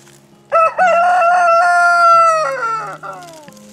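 A blue Wyandotte rooster crows once, loud and close, in a full drawn-out call that fades at the end, with soft clucks underneath.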